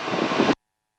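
A Bristell light airplane's piston engine droning steadily in flight, a loud even buzzing hum heard from inside the cockpit that cuts off abruptly after half a second.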